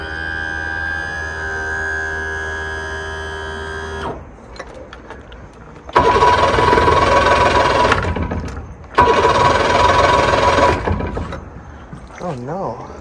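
A Mercury 90 two-stroke outboard motor cranking without starting: two loud, close starter bursts of a few seconds each, separated by a pause, after a steady droning tone at the start.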